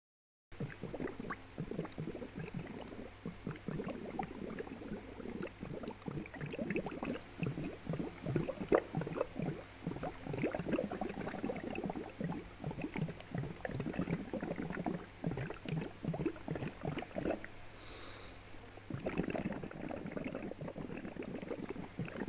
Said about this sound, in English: I can lower my heart rate by breathing bubbles into my chocolate milk